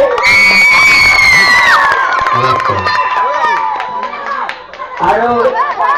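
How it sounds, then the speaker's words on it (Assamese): A crowd at a live comedy show claps and cheers for a comedy group, loud and close, with children shouting, excited chatter and a voice calling out over the applause before a brief lull and a fresh burst. "তেখেতসকলৰ কাৰণে এটা জোৰদাৰ হাত চাপৰি"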